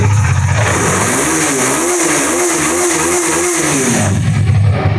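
A second-hand 2019 KTM Duke 250 motorcycle, BS4 model, revving close and loud: a steady idle rises into a series of quick throttle blips with a wavering engine tone, then settles back to idle.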